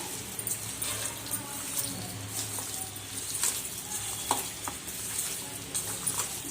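Chicken pakoda pieces being mixed by hand with spices and red food colour in a bowl, a soft, moist squishing and pattering of the coated meat, quiet and close, with no talk.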